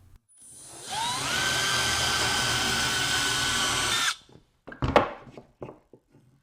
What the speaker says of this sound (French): tu as trois façons différentes de percer un trou bien droit